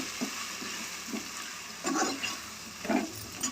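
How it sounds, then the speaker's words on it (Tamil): Spices sautéing in hot oil for a potato cream gravy, a steady close frying hiss with soft bursts of crackle and stirring scrapes, no voices. "இப்போ இது எண்ணெயில் போட்டு வதக்கும் போது நல்லாயிருக்கும்."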